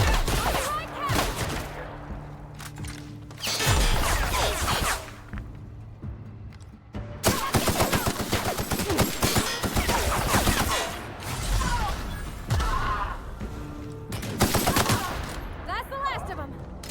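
Shotgun blasts in a combat scene from The Outer Worlds: Spacer's Choice Edition, loud repeated booms in bursts with whooshes and game effects, steady battle noise throughout with a voice speaking briefly.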